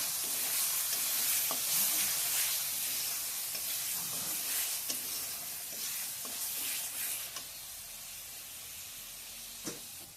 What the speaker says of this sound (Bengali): মশলাটার মধ্যে সামান্য পরিমাণ জল দিয়ে নেব।